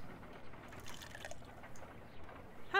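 Water trickles and drips as half a glass is poured in a Sherlock Holmes game, faint and uneven, with small liquid splashes and a brief bright chime at the very end.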